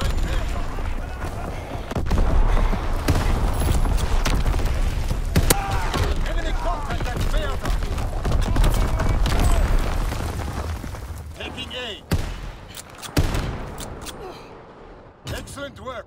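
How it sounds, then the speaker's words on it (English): Enemy artillery fire in the WWII shooter Call of Duty: WWII, a sustained battlefield roar of heavy booms and blasts that stays loud for most of the stretch and thins out toward the end, with voices shouting over it. "Incoming enemy artillery."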